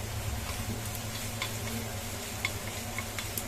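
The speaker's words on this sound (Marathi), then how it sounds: "आता यावर कढीपत्ता टाकायचा आहे।" Curry leaves sizzling in oil with onions in a pan, a soft steady frying hiss with occasional light crackles and a stirring scrape, close by.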